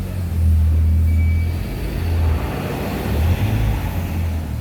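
An MK4 VW GTI rolls onto a dyno, its engine a steady low rumble close by that swells slightly at moments, with no voices.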